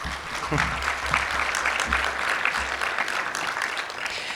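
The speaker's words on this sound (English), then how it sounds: "Let's give Nicola a very warm round of applause." A conference audience gives a sustained round of applause, dense and steady clapping filling the full clip at even strength, with a voice briefly audible near the start.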